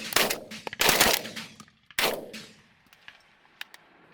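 Shotgun blasts during a pigeon hunt in central Pennsylvania: two loud close shots about a second apart, then a third after a pause, each ringing out and decaying, with faint clicks and knocks afterward.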